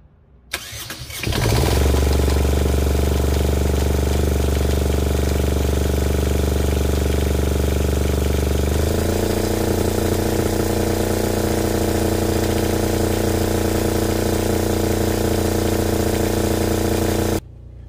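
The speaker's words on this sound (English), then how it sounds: "Now when we fire it up, I'll put the camera down on the generator here." A Fischer Panda 5k marine generator cranks and catches, then settles into a loud, steady run. The drone shifts pitch partway through as the throttle adjusts and the revs change, and it keeps going until near the end.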